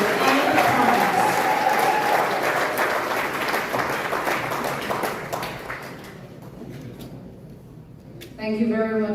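An audience at the Guyana Tourism Awards gala applauds the Minister of Tourism, sustained loud clapping from a large crowd that fades out over several seconds before a speaker begins talking.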